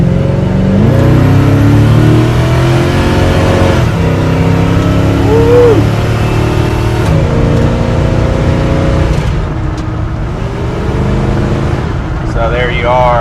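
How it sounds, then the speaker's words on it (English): A 1972 Chevrolet C20 pickup with 4.10 rear gears rolls along at about ten miles an hour, its engine droning steadily and up close with a few shifting tones as it moves. "We're going to roll about 10 miles an hour."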